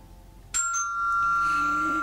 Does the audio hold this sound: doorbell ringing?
yes